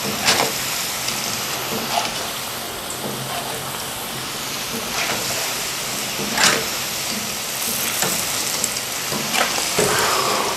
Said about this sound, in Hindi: थोड़े थोड़े डाल के आपने इसको अच्छा सा फ्राई करना है